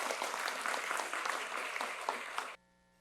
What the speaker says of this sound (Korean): 다 함께 큰 박수 한번 보내주시기 바랍니다.